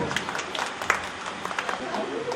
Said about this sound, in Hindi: जोरदार तालियां कृतिका के लिए।